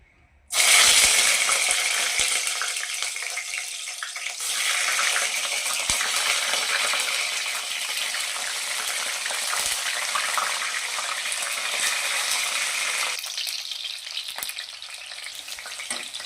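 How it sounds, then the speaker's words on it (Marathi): Loud, steady sizzling of brinjal frying in hot oil, starting abruptly and crackling continuously, easing slightly near the end, with no talking. "जर तेल चांगलं तापलेले आहे तर आपण वांगी फ्राय करून घेऊया"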